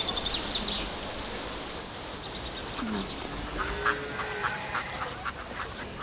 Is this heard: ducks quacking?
yes